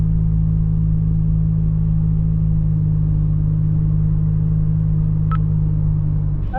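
A car engine running while driving, a loud steady low rumble with constant tone and no revving, close and continuous, with a brief tick near the end.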